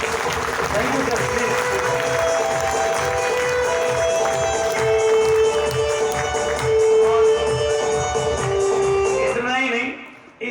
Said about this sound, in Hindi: आप सब लोग इनको गरिमा प्रदान करने के लिए हाथ ऊपर करके ताली बजाइए